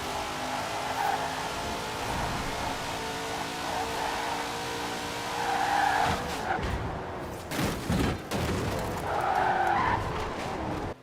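A 1918-horsepower Hot Wheels Twin Mill in the racing game Forza Horizon 4 accelerates hard with a sustained engine roar and screeching tires, surging in waves with brief gear-change dips, loud and continuous.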